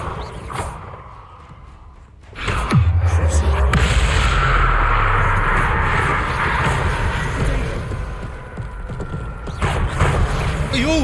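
A Bombarda blasting spell explodes in the Hogwarts Legacy video game: a sudden deep boom erupts after a quieter opening, then a loud rumbling roar carries on to the end.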